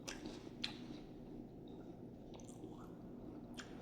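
A large pear being bitten and chewed up close: faint, wet, crunchy chewing with a few sharper bite snaps over a low background hum, no talking.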